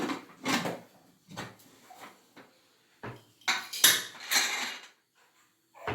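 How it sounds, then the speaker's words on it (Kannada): A pressure cooker lid is set on and closed during cooking of a brinjal gojju: a few sharp metallic clanks and clatters, close and fairly loud, separated by short pauses. "ಈಗ ಕುಕ್ಕರ್ ಮುಚ್ಚಳ ಮುಚ್ತಾ ಇದ್ದೀನಿ ನೋಡಿ"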